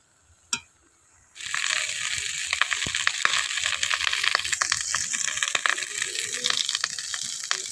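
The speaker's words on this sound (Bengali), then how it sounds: "ভেজে নিই, সব আনাজগুলো হালকা হালকা করে ভেজে নিতে হবে।" Cauliflower and other vegetables fry lightly in a pan. After a small clink, a loud, steady sizzle starts and carries on with crackles and the scrape of stirring.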